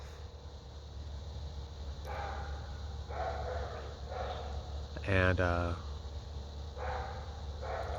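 A dog barks in short bursts at a distance, with one louder, closer yelp near the middle, as someone talks over a steady background hum.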